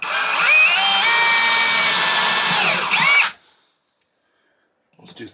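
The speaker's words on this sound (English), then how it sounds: "Now I'm going to drill down" A power drill with a self-drilling square-drive bit drives a screw down into a shelf, whirring loudly and steadily for about three seconds before stopping abruptly, followed by near silence and a faint brief sound.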